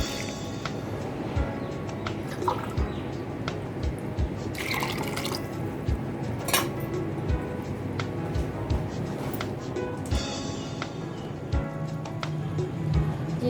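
Water poured into a pot of chana dal cooking with red chillies, a steady wet trickling and dripping with scattered clinks, close and moderately loud, with no talking.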